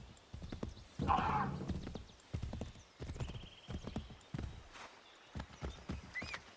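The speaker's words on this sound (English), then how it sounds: "I wonder how far I can get with the horse." In Assassin's Creed III, hooves clip-clop in bursts while a horse neighs loudly near the start, with short broadband gallop thuds continuing throughout in a game-like setting.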